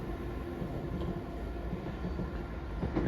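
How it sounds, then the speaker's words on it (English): A London Overground train bound for Dalston Junction from Clapham Junction rumbles in with a continuous low, moderately loud rolling noise that builds a little toward the end. "Here comes a London Overground service to Dalston Junction from Clapham Junction."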